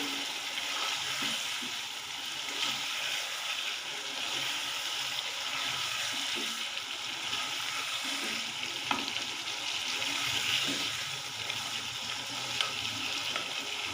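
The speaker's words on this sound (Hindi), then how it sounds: "पाँच मिनट तक मैंने इसे अच्छी तरह भूनना है।" Cauliflower and meat for gobhi gosht frying in a pan, a constant close sizzle with occasional stirring scrapes and no talk.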